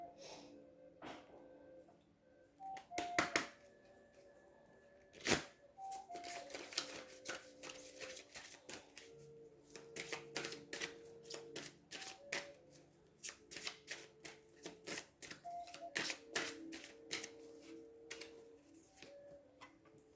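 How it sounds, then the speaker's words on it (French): Tarot cards being shuffled by hand in a series of crisp riffling and snapping bursts, with scattered clicks and pauses between passes, fairly close and without talk. "Je bats les cartes"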